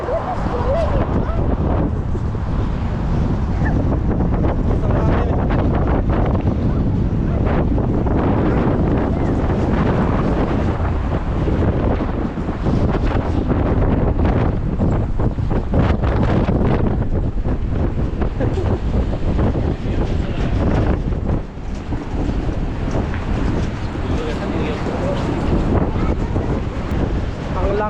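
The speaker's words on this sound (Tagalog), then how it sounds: "It's too windy." Strong wind roars and buffets the microphone without a break, a heavy rumbling whoosh with muffled voices faintly buried beneath it.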